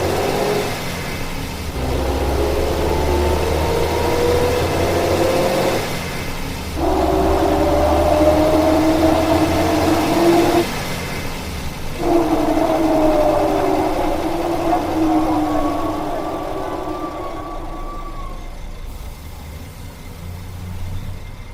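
A Subotica Trans city bus, garage number 97, still on its original engine, runs close by with a steady rumble and a rising and falling whine as it revs through several bursts.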